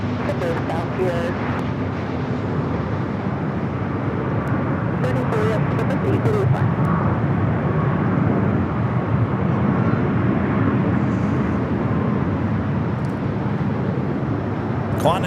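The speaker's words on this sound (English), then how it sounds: "Qantas continuing its taxi there on the south." A Qantas airliner taxiing on the south side of LAX airport on a Friday afternoon, a steady broad engine rumble and whine heard from a distance, continuous and fairly loud against outdoor background noise.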